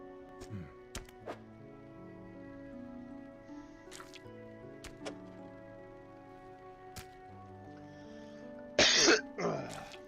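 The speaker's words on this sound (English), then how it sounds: "That was a cough" A single cough from a player during a Dredge gaming session, a short sharp burst near the end over quiet game music with scattered dripping and thunking effects.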